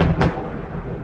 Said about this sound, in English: There is lightning and thunder